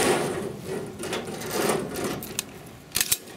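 An ammunition belt is pulled into the feed of an RP46 machine gun until it locks. Soft, close metallic rattling ends in a couple of sharp clicks.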